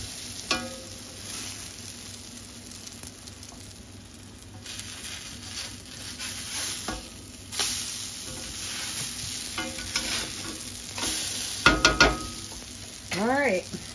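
Steady sizzling and frying of food in a pan on a gas stove, close and continuous, with occasional scraping stirs and utensil clatter, and brief bits of talk near the end.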